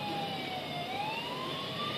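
Police siren wailing steadily nearby on a street, its pitch sweeping slowly upward and holding, loud and continuous with traffic beneath and no talk.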